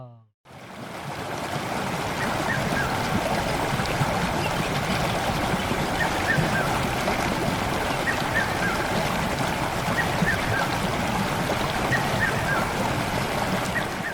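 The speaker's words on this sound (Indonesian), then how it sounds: "Suara air sungai jadi alarm alami." Steady rushing river water flows continuously throughout, a broad even wash of sound with faint bird calls scattered in the background, at Kali Bontar in Magelang, Indonesia.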